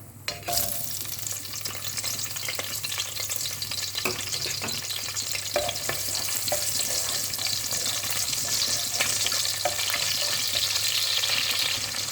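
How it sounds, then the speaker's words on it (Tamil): Fenugreek, mustard seeds and small shallots fry in hot oil for a home-style South Indian lunch, giving a steady, close sizzle with crackling pops and occasional stirring scrapes throughout, with no talk. "எண்ணெய் சூடாயிடுச்சு. கொஞ்சோண்டு வெந்தயமும் கடுகும், சின்ன வெங்காயம்,"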